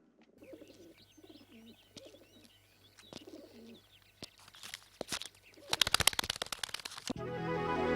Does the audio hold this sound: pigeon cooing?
yes